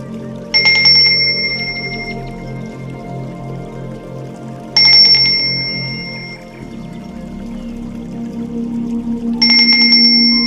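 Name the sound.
ritual bell ringing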